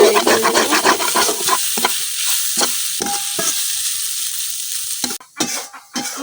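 Bottle gourd bhaji with potato being stirred in a pan, a spatula scraping in repeated strokes over a soft frying sizzle that fades toward the end, then a few sharper clatters close by.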